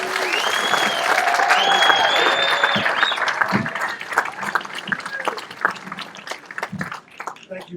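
Audience applause at a Saints Hall of Fame ceremony welcomes an honoree to the microphone, starting as a loud, dense wash of clapping and cheering, then thinning into scattered claps with brief voices that fade out by the end.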